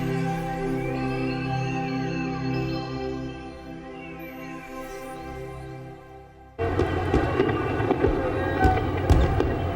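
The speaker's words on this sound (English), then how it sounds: "Every summer, a fireworks festival is organized here." Fireworks burst at the summer Sumida River fireworks festival in Tokyo, erupting suddenly after a quieter musical passage into loud crackling explosions and crowd-like din that continue to the end.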